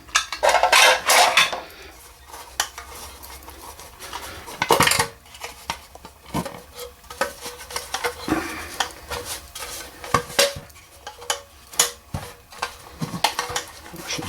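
A French army mess tin is handled, its metal clattering and scraping in a loud burst at the start, then light clinks and taps recurring throughout, close and without talk.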